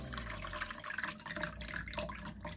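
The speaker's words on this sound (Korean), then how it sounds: "이렇게 놓고 물이 빠질 때까지 놔두면 됩니다" Rinsed rice cakes for tteokguk draining in a sieve set over a bowl, with a steady close trickle and patter of running water and drips throughout.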